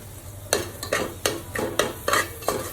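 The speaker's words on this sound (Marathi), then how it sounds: "तेलात सगळे मसाले व्यवस्थित परतून घ्यायचे." Chili powder and mutton masala sauté in oil in a pan, a soft sizzle broken by regular sharp scraping strokes of a spoon, about two per second, close and alone.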